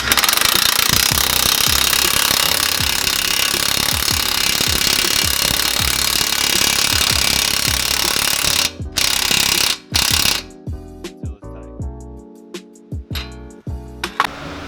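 An impact gun hammers on Mustang suspension parts during a lowering-spring install, a loud continuous rattling burst that cuts off into short, sharp intermittent rattles with mechanical clanks.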